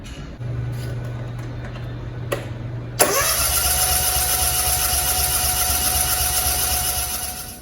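A Kawasaki FS600 small engine, unstarted for several months, turns over with a brief starter whir and then catches at about three seconds, settling into a steady, loud idle close by.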